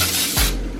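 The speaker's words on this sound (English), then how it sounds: "Now I'm about to spray some baking oil on a pan" Baking oil sprays from a can onto a pan lined with aluminum foil in a single short hiss lasting under a second, close and fairly loud.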